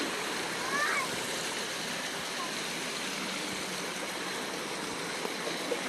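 Steady rushing of flowing water close by, a constant splashing stream with faint voices briefly in the background.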